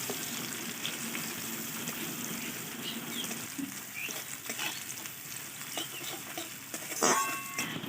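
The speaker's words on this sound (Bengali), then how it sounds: "এখানে আমি 3 মিনিটের মতো পেঁয়াজটাকে নেড়ে নিয়েছি" Chopped onion frying in a pan on home cooking heat, a soft continuous sizzle with occasional stirring scrapes and a brief clatter near the end, fairly faint and without speech.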